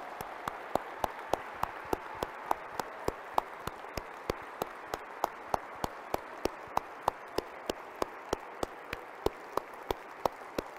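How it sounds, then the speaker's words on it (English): A church congregation claps in a steady unison beat, sharp hand claps repeating about three times a second, quiet and a little distant, with no talking over them. "Clap, show him with your clap."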